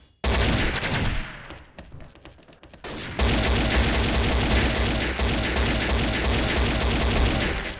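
Dense, loud bursts of rapid AK rifle gunfire in the game XSHOT, with a short lull before heavier continuous shooting resumes.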